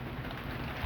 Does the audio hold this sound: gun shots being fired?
no